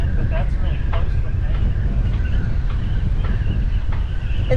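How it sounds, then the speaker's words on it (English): Strong wind gusts roar across a sailboat deck during Hurricane Ian, a dense, loud, continuous buffeting with faint rigging whistles and knocks. "That was quite a gust. It almost blew me over."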